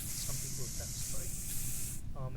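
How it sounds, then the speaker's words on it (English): Pepper spray fires in the Space Station 13 game as a sustained high hiss lasting about two seconds, with faint clicks and game sounds underneath. "you can stun people with pepper spray"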